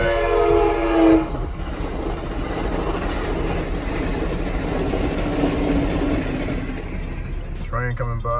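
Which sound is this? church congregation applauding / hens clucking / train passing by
train passing by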